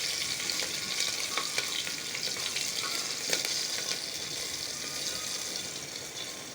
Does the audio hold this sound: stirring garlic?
yes